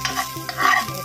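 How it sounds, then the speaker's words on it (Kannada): Greens sizzle and crackle in a hot pan of oil while being stirred, a close, brief burst of frying for a fish curry with scraping stir strokes. "ಸೊಪ್ಪನ್ನು ಹಾಕಿ ಚೆನ್ನಾಗಿ ಒಂದು 2 ನಿಮಿಷದಲ್ಲಿ ಫ್ರೈ ಮಾಡ್ತೀನಿ."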